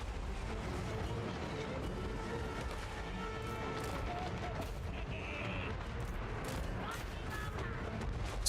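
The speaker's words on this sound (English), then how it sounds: "Flame cannons, those things are destroying us." Flame cannons and other weapons fire in a Total War: Warhammer III battle, a dense, continuous rumble of blasts and crashes with scattered sharper impacts, with voices mixed in.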